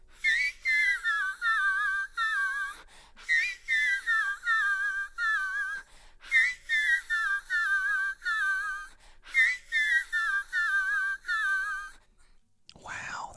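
A singer sings in whistle register on an isolated multitrack stem, with high, thin, sliding notes in repeated phrases separated by brief pauses, clear and alone without accompaniment.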